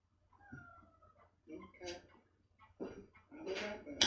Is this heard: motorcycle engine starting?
no